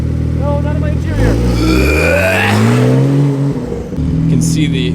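Porsche 992 Turbo S fitted with a JCR titanium exhaust revs hard, the engine note sweeping up and falling back, with a person talking over it and dust blowing around outdoors.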